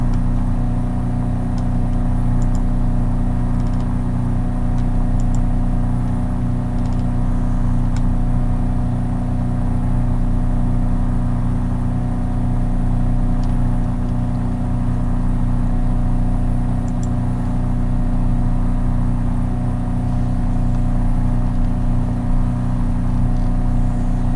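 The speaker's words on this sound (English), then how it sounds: "The engine sound is not impressive. If you listen closely, you will hear where it loops." A looping aircraft engine drones in Flight Simulator X: SE on a flight from Paris to Brussels, a steady loud hum with fixed tones that repeats the same stretch without letup, small clicks now and then, and no talk.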